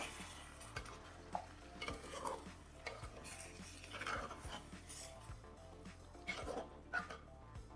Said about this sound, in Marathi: आता हे छान मी परतवून घेते मसाल्यामध्ये.